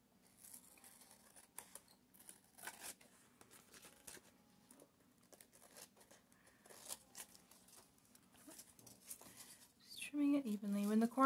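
Scissors trim a handmade paper collage envelope, giving a run of crisp, close snips and paper rustles at a quiet level, with a brief voice toward the end.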